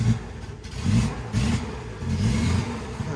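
A Triumph TR6 sports car engine catches and revs in several close, throaty bursts, rising and falling in loudness with low rumbling between pulls and no speech.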